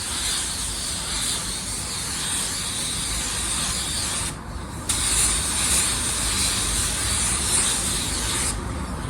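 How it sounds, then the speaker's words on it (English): A spray gun hisses as it lays clear coat onto a car bumper, a steady close airy rush that drops out briefly midway before resuming, with no talk. "if you don't have a lot of experience shooting clear coat, I would recommend going very light on your first coat"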